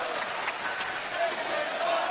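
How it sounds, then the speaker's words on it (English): A crowd at a professional wrestling match in Boston applauds and cheers as a steady, diffuse roar with scattered claps, heard at moderate distance under a commentator's voice. "You hear the great crowd here in Boston showing their respect"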